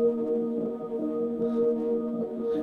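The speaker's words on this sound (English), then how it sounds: "I took a sample and I pretty much just started looping it, but very quickly." A short melodic sample chopped and looped rapidly in eighth notes, washed in filter, chorus and reverb for a hip-hop beat, giving a steady sustained tonal shimmer with no drums, moderately loud and alone.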